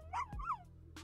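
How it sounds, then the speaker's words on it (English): Dogs in The Sims 4 give a pair of short, sharp yipping barks close up, the second brief and clipped. No speech is heard. "Sasha or Sage is barking."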